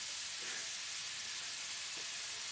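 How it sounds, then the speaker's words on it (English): Food frying in a hot pan, giving a steady, fairly quiet broadband sizzle and hiss with a couple of faint stirring clicks. "I'm just using my hand on the sizzling pan."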